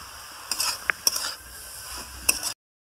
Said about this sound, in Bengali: এবার চিংড়ি মাছটাও দিয়ে দিলাম।